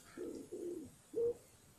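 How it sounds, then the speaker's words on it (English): Wood pigeon cooing from a tree behind a campsite in the early morning, three soft low hooting notes, the last one louder and clearer, fairly close in quiet surroundings. "there's a wood pigeon at the tree at the back there"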